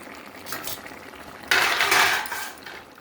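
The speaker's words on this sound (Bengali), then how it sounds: "এবার এর মধ্যে মাছ আর বড়ি দিয়ে দিচ্ছি" Bata fish and bori lentil dumplings dropped into a simmering curry in a pan: a steady low bubbling hiss, then a sudden louder splash and clatter halfway through that slowly settles.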